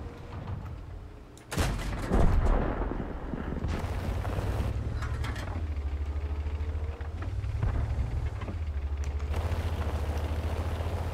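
Cannon shots from a tank in a video game, fired while the tank keeps moving: a sharp loud blast near the start, then further booms over a steady low engine rumble.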